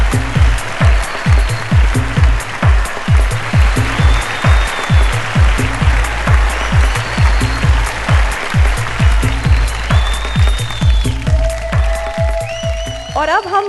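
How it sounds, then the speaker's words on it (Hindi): Audience applause welcoming an award recipient at a televised awards celebration, loud and sustained from a large crowd, with sharp rhythmic claps or thumps running through it and a few brief tones near the end. "प्लीज जोरदार तालियों से स्वागत कीजिए"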